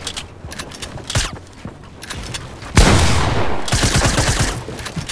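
Rapid gunfire in the video game Fortnite, bursts of shots crackling at first, then a loud sustained volley of automatic fire with close, punchy reports and no talking.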